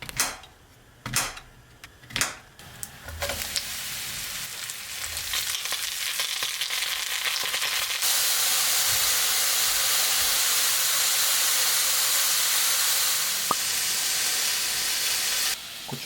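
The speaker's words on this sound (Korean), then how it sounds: "일단 콩나물이 삶아지는 동안 버섯을 구울 겁니다." Mushrooms fry in a pan, with a few clattering knocks at first and then a steady loud hiss and sizzle that grows stronger and carries on alone.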